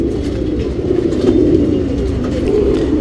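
Low, soft cooing of racing pigeons runs continuously under a steady rumble of background noise, close by and without speech.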